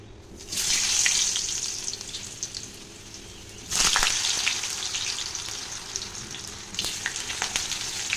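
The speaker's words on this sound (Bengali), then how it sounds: "তো দেখো তেলটা গরম হচ্ছে, আমি আলুগুলো ভেজে নেব।" Potato pieces frying in hot mustard oil in a pan, a steady crackling sizzle that swells twice, loud and close, with no talk over it.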